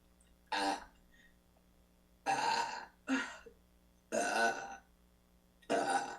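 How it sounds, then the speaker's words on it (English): Five separate burps, short and throaty, come one after another with pauses between them in an otherwise quiet room. "I burp when I do healings."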